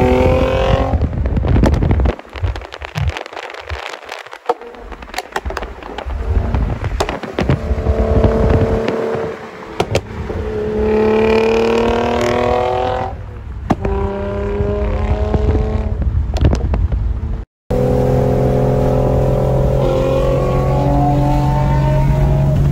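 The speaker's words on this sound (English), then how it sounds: "So that's Motordyne exhaust again." Nissan G35 with a G37 front end and a full Motordyne exhaust revs repeatedly, a loud, close engine and exhaust note rising and falling, with a brief cut near the end before it resumes idling.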